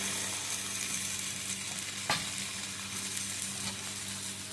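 Chopped tomatoes and coriander leaves fry in a pan for a paneer gravy, giving a continuous low sizzle with light crackling and one brief utensil clink midway, with no voices.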